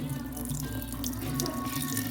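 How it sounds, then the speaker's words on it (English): Cold tap water runs steadily into a sink as corn is washed, a continuous splashing flow with light sloshing, fairly close and without any talk. "we're going to be washing the corn. You need to use cold water, no hot water"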